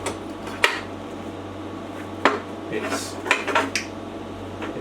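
A TIG-welded metal joint is strained by hand in an attempt to bend it, producing several sharp metallic clanks and scraping knocks, close and irregular, with a brief spoken word.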